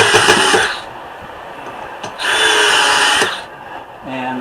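A power drill driving a decking screw into wood, with loud close bursts of whirring that start and stop in three runs.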